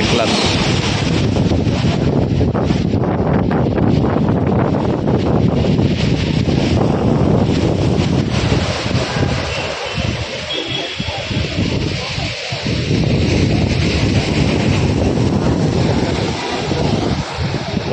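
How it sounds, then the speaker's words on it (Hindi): Continuous roar of sea waves washing in at Marine Drive, Mumbai, mixed with strong wind buffeting the microphone; loud and steady throughout, with no voices. "सिर्फ समुद्र की लहरें, हल्की हल्की हवा चल रही है।"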